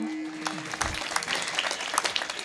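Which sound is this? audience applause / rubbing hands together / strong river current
audience applause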